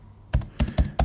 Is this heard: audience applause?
no